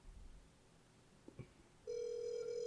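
On an outgoing phone call, a single ringback tone starts partway through and holds steadily as a clear electronic tone, after a quiet stretch with a few faint knocks.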